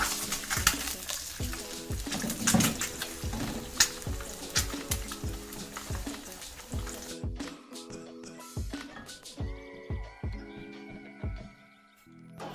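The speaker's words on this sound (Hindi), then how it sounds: "जैसे ही अंडा फ्राई हो जाएगा" An egg frying in a pan, cooked one side then flipped, for a chicken club sandwich, with a steady close sizzle broken by repeated knocks and scrapes, fading quieter near the end.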